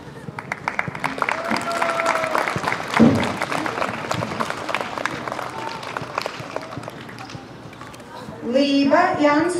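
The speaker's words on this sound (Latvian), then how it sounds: "Divi vienādi. Aplausi." Audience applause at a children's sports awards ceremony in Jūrmala, with dense clapping running throughout under a loudspeaker voice, plus a brief louder burst near the end.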